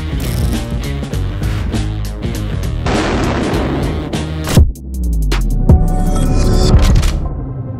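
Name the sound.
gunshots fired at Bud Light beer cans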